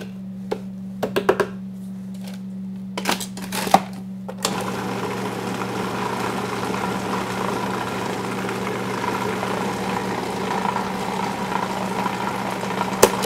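An electric hand mixer whirs steadily through brownie cheesecake batter, starting with a few short bursts and stops before running continuously at a close, even hum.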